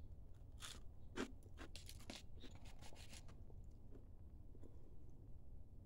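Crunchy fried blue rockfish head being bitten and chewed close up, a run of sharp crackling crunches in quick bursts that thin out toward the end, with no talking.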